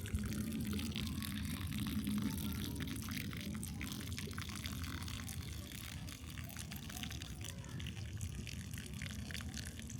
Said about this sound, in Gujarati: ચાલો આવી રીતે ઉલટું રાખીએ એટલે બધું પાણી નીકળી જાય બહાર